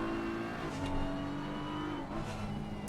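A BMW GT race car in a sim racing game at the Nürburgring holds a steady engine drone with a sustained harmonic whine and brief shifts in pitch, moderately loud and continuous.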